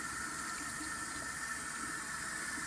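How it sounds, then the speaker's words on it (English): Cold water runs steadily from a kitchen tap as Dominican mangu is prepared, a continuous, even hiss and splash with no talking over it. "That's cold water, guys."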